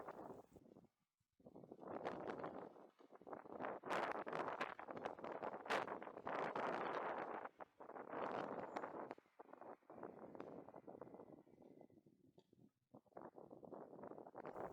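Strong wind buffeting the microphone beside a canal during a winter angling match, loud roaring gusts that surge and drop away to brief lulls, with no talking.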